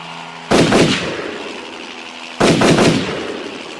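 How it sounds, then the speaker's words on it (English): Two sharp gunshots, close and loud, fired from a mounted gun at a helicopter, each blast ringing out with a decaying tail about two seconds apart, no voices over them. "Bond shot at the helicopter."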